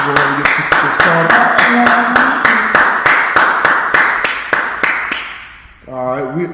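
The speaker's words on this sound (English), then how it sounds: "All right, clap it up, clap it up." An audience clapping in a steady, even rhythm, a loud sharp clap roughly every third of a second with voices chanting and talking underneath, then the clapping stops and someone speaks.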